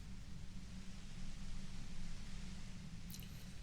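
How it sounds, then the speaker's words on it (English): Static white noise in the game Disco Elysium: a steady, faint hiss over a low hum that holds without a break, with a brief high blip near the end and no voices. "You hear through the white noise. It's especially bad suddenly."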